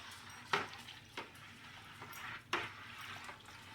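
Homemade laundry detergent with borax is stirred in a container, giving a few soft, watery swishing strokes spaced about two seconds apart, fairly quiet and with no talking.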